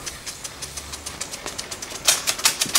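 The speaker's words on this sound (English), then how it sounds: "All three engines running under their own steam." Three small Miller Junior Engineer SE-100 model steam engines running together, giving a fast, steady chuffing of rhythmic hissing puffs that grows louder and sharper toward the end, close by.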